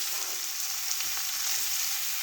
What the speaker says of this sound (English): So that's cooking away nicely now.